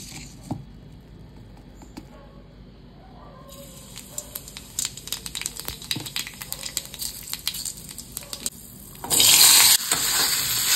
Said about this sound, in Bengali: কড়াই চাপিয়ে দিয়েছি, জাস্ট একটু কালো জিরে ফোড়ন দিয়ে পাতলা করে তরকারি করে নেবো